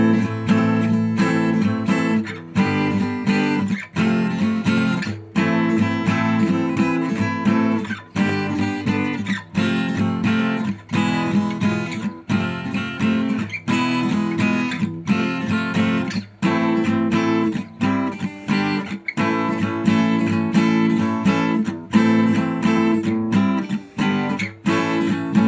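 Acoustic guitar plays a riff as full barre chords, strummed continuously and fairly loud, with short rhythmic breaks between phrases and no talking.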